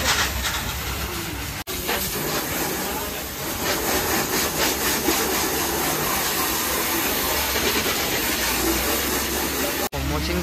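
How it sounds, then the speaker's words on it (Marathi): At a car service center, a car-washing machine sprays pressurized water through a pipe, a loud steady hiss and rush that fills the space, with two short breaks where the spray cuts out. "वॉशिंगची पण मशीन चालू करते"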